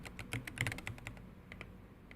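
Keys clack on an IROK MG75 Pro mechanical keyboard with an anodized CNC aluminium case, a quick irregular burst of strokes that thins to a few scattered taps, close and fairly soft with no talk.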